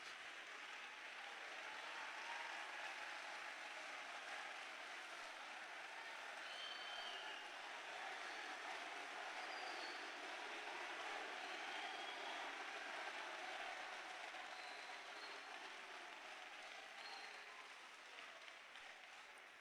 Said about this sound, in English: let's, with a big round of applause, welcome our contestants to come and be seated